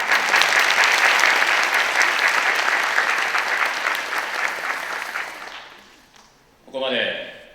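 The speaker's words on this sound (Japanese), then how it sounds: "手拍子ありがとうございます。" An audience at an orchestra concert in a hall claps steadily for several seconds, a dense, loud wash of applause that fades out, followed by a brief voice.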